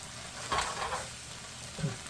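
Hamburger, gravy and onions frying in a pan for loose meat sandwiches, a quiet sizzling hiss with a couple of soft stirring scrapes.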